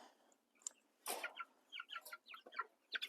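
Meat chickens clucking outdoors on a farm in drizzling rain, a burst of quick, close clucks and soft calls scattered across a few seconds, fairly faint, with no talking.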